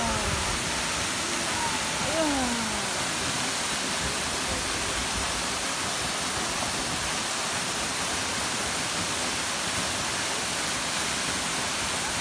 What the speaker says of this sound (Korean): 폭포 봐봐, 폭포